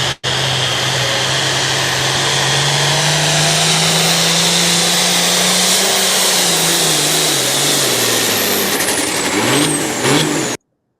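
A tractor engine roars steadily under heavy load during a pulling run, its pitch slowly rising and wavering before it revs higher and abruptly cuts off.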